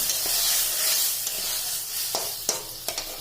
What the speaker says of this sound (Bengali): এর সাথে এক দুটো বাটি জল দিয়ে দিচ্ছি।